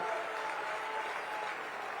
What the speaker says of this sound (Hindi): फिर से एक बार चंदौली की भूमि के लिए जोर से ताली बजाकर स्वागत करिए जरा